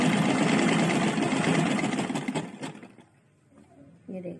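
A sewing machine stitches fabric over a zip with a loud, fast continuous whir that stops after about two and a half seconds, leaving quiet room noise and a brief faint sound.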